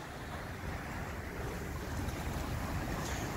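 Sea waves surging against the shore at a fishing spot, a steady loud wash of surf with gusting wind over the microphone and no talking.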